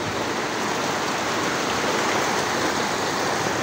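Steady heavy rain pours down outdoors during hand laundry in a dense, constant hiss with no other sounds breaking through.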